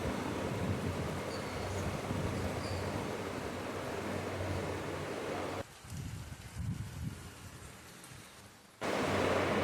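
Rain pours steadily onto flowering potted plants on a balcony, a dense close hiss of drops on leaves and surfaces that briefly drops quieter and then returns at full strength.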